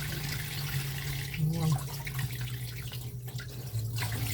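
Tap water runs steadily into a kitchen sink as a fatty tilapia is rinsed for sinigang, a continuous close hiss with light splashing and no talk.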